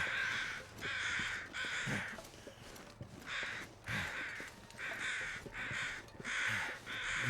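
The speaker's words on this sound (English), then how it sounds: "very loud crows, don't you knows?" Crows in the video game The Long Dark, loud harsh caws repeated in a steady series of about nine calls, close and alone with faint crunching steps underneath.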